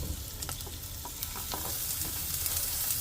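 Chopped onion fries in oil in a pan, giving a constant dense sizzle with scattered spatula scrapes and stirring clatter, loud and near throughout.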